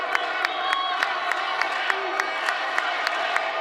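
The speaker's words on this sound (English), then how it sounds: "Crowd trying to come to the aid of the Panthers." A crowd at a 2019 NCAA volleyball tournament second-round match between Cincinnati and Pittsburgh cheers and claps continuously, with sharp rhythmic claps or thundersticks popping through a steady roar.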